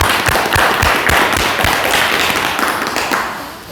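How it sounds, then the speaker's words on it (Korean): Audience applause at a live talk, a dense wash of many hands clapping, steady and fairly loud throughout before tapering slightly at the end. "그럼 박수 부탁드립니다."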